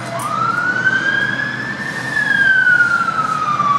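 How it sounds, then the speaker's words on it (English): Police car siren passing by outside a tall tower block, a single wailing tone rising and falling slowly, moderately loud over low background rumble. "Lots of police cars going past today for some reason."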